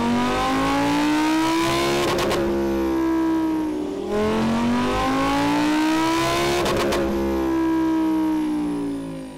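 A Lamborghini Huracán STO V10 revs hard on a chassis dyno, two long loud pulls climbing steadily in pitch before abrupt gear-shift breaks, the engine howling close and alone.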